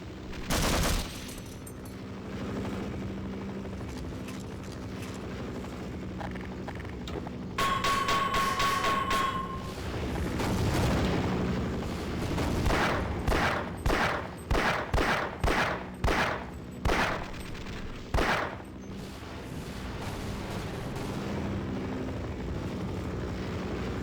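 Gunfire in the shooter Half-Life, a steady run of loud, evenly spaced shots in the middle of the clip, layered over a droning mechanical engine-like hum and a brief beeping tone, no talk.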